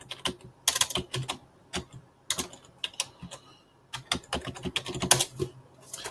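A password is typed on a computer keyboard in irregular bursts of close, crisp key clicks with short pauses between groups; no talk.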